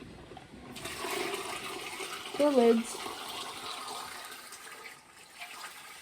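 Hot water poured into a pot while canning cranberry juice, a continuous gushing and filling rush that swells briefly in the middle before tapering off, with a brief spoken word partway through.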